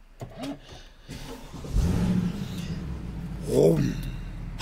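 A Mercedes-Benz C63 AMG W204 engine cranks via its start button and catches, then idles and revs briefly with a mid-pitched rumble, while a person talks nearby.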